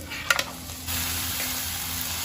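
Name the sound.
chopped tomatoes frying in a pan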